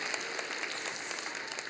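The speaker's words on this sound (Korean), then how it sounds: "여러분 크게 박수로 환영하시길 바랍니다" Church congregation applauding during a Sunday service child baptism, a steady wash of many hands clapping at moderate distance for the whole stretch, fairly soft and even with no talk over it.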